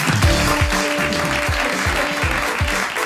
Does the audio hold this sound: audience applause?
yes